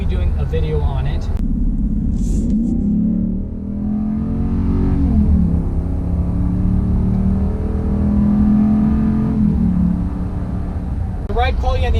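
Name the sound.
2019 Ram 3500 Laramie 6.4 liter truck driving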